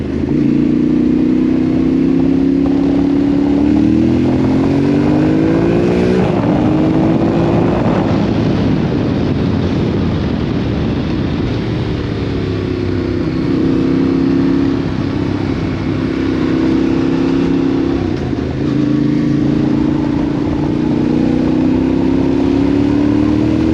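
Yamaha Tenere 700 Rally motorcycle engine running steadily while being ridden, a loud continuous drone that rises and falls in pitch with throttle changes, with wind rush over the microphone and no talk.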